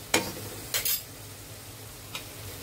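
Spoon stirring two big spoonfuls of yogurt into rice in a pot for egg biryani, three short scraping clinks spaced apart over a low steady background hum.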